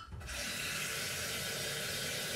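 Water runs steadily into a container being readied for Easter and spring decorations, a continuous close hiss and splash that starts abruptly after a brief pause and carries on alone without talk.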